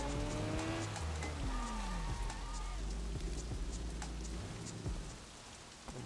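Steady rain pours through the Sleeping Dogs video game, mixed with car engine tones, tire noise and passing traffic in a constant wash with no voices.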